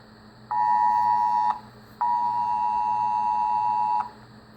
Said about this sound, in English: So emergency notification preview.